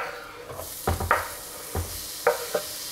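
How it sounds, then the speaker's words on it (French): Shallots and bell peppers sauté in butter with a soft, steady sizzle and several short stirring knocks against the pan. "On va mettre maintenant le beurre. On va faire revenir échalote et poivrons."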